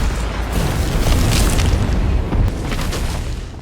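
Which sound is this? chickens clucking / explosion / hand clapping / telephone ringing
explosion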